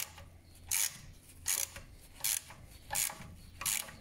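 Rusted brake caliper screws on a Fiat Stilo 1.6 16V are loosened with a ratchet, five short, crisp clicking bursts repeating at a steady pace, close and fairly quiet.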